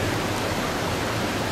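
A loud, unbroken roar of rushing water in north central Alabama, dense and close with a deep rumble and no pause, with no voices over it.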